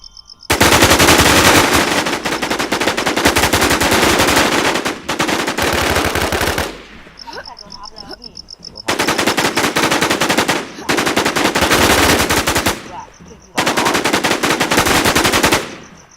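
Machine gun fire in the online shooter game Warz Immortal, loud sustained automatic bursts in close succession, broken by short pauses between three long volleys and a final shorter one.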